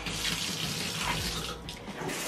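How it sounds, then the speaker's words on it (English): A home shower runs steadily, a loud, close, continuous rush of spraying water with no talk. "I turned on the shower"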